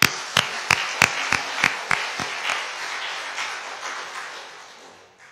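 A church congregation claps in sharp, near, loud beats, about eight strokes over the first two seconds, then the clapping dissolves into a fading wash of scattered applause.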